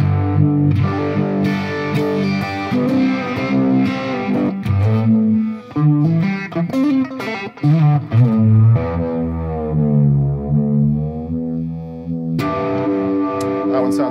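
Distorted electric guitar run through a Fender Tone Master Pro modeler on a preset, playing sustained chords and melodic lines with chorus and reverb effects, loud and continuous with no talking.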